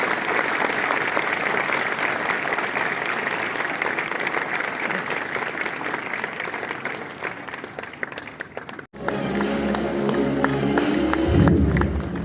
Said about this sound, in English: could we please have once again a loud round of applause for our honorable chief guest